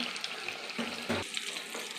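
Breaded chicken cutlets fry in plenty of oil in a kadai, giving a steady close sizzle with a couple of brief thuds and clinks as they are handled, and no one speaks.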